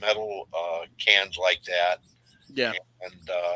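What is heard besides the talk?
No distinct noise like a dog, phone or traffic.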